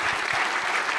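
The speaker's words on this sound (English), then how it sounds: "Big round of applause to all of you." An audience at a presidential panel on Africa's leadership and global role gives a dense, steady burst of applause, many hands clapping together at an even loudness throughout.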